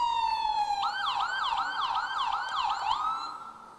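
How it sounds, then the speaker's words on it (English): A U.S. Department of Veterans Affairs ambulance in a Veterans Day parade runs its siren: a steady electronic tone, then a rapid repeating yelp wail over about three seconds, loud and fairly near, with no talk over it. "they're coming in, with sirens ablazing"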